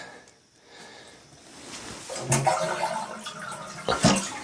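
Water gushes and splashes from a loosened bidet hose connection under a toilet, beginning quietly and swelling into a steady close rush with a couple of louder bursts.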